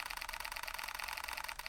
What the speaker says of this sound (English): if I switch into the mechanical shutter mode, we'll find that we have a frame rate of,